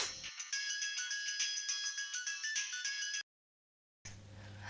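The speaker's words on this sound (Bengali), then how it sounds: "এখন আবার কে ফোন করলো তোমায়?" A mobile phone ringtone for an incoming call plays as a bright, repeating electronic melody in a quiet room, stops abruptly, and a low hum follows after a short silence.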